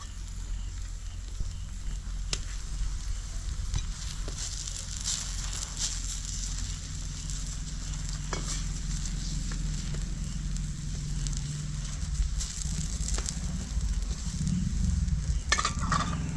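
Aloo paratha fries in mustard oil on a hot pan, a steady close sizzle with soft scraping and an occasional clink, no voice over it.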